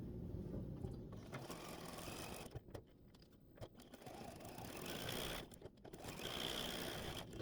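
A sewing machine stitches a green leaf appliqué onto a quilt, a steady close mechanical whir with rhythmic needle clatter, briefly pausing twice before resuming.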